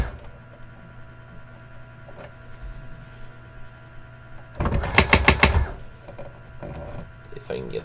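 A Brother WP-680 electronic word processor types a quick burst of sharp, evenly spaced mechanical strikes close up, after a stretch of low motor hum, with fainter clicks and thunks following.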